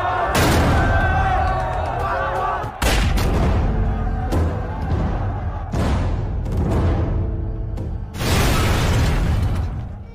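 Several heavy grenade explosions and bursts of gunfire in a war film battle between Indonesian fighters and Allied troops erupt in quick succession, loud and booming, with the battle noise continuing throughout.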